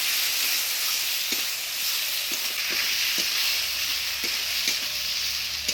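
Spice paste of ground coriander, cumin and chilli with turmeric and salt fries in a pan for a Bengali village-style fish curry, giving a steady loud sizzle broken by soft scrapes of stirring.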